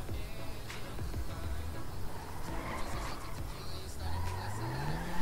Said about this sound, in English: Here's my car.